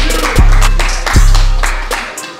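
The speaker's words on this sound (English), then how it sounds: "Y'all clap it up for him right quick." A small group clapping and whooping for a newly found match on a dating game show, a short burst of uneven claps with loud thumps and voices mixed in, fading toward the end.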